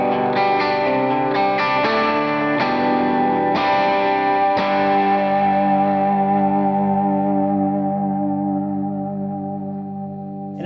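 Electric guitar through boost and overdrive pedals plays a few strummed chords and picked notes, then lets a thick, sustained chord ring out and slowly fade.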